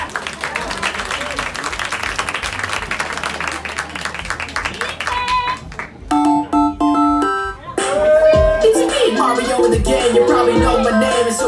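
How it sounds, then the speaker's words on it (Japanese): Dense applause and clapping from a live audience fill the first half, loud and sustained, before giving way to music. "拍手"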